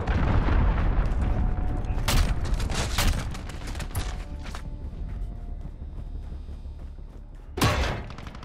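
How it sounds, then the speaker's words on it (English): A cruise missile strike lands during a Modern Warfare multiplayer match, with scattered gunfire and sharp booming impacts that fade somewhat over the middle before a final heavy blast near the end. "Allied cruise missile launched."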